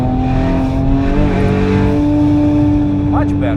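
A 1000hp 9ff Porsche Turbo held at full throttle on the Nürburgring drones loudly and steadily, its engine note rising gradually, with someone talking over it.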